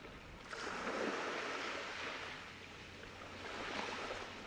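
Soft, steady wash of ocean waves on a beach, a gentle broad hiss that swells slightly and recedes, faint and distant with no voices.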